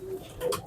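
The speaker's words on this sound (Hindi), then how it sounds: "ये देखिए जी कैसे कबूतर है" Pigeons of a prized bloodline coo softly in a loft, a brief low murmuring call rising briefly, with faint background noise around them.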